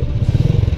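A motorcycle rides close in heavy traffic on Monseñor Romero, its engine putting out a loud, rapid pulsing throb in a brief burst.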